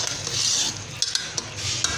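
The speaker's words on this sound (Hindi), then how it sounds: "थोड़ा सा चला लेते हैं" A spoon stirs dried plum chutney simmering in sugar syrup in a pot, soft scraping swishes with a few light clinks against the metal over a faint background hiss.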